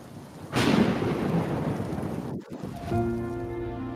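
Loud thunder crashes in at once, then a steady, heavy roar of rain drums on surfaces during a storm, with a brief lull before the downpour settles in again.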